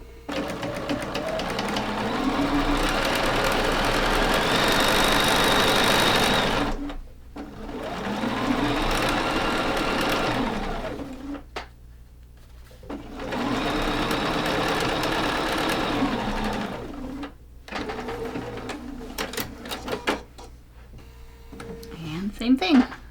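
A sewing machine stitches quilt block pieces together in three long runs of rapid, steady whirring, with short pauses between them as the fabric is repositioned.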